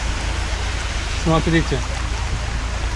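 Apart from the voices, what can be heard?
torrent of floodwater flowing down a street in Sochi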